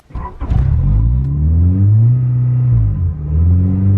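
A Honda Prelude with a starting fault cranks briefly, then catches and fires up, settling into a loud, steady engine rumble close by with slight revving toward the end.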